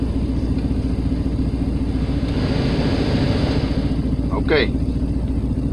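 Chevrolet Silverado engine idling steadily as the air conditioning compressor kicks in, a loud continuous mechanical hum with a slight rise in engine speed, and someone speaking briefly near the end.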